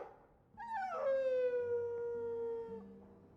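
A dog in Dragon Age 2 lets out a drawn-out, wavering howl that slides down and settles into a steady tone, with a soft whimper near the end, close and fairly loud with no talking.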